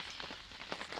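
Steady rain falling outdoors in the early morning on a river expedition, a soft continuous hiss with a few brighter drop patters, fairly close and with no talking.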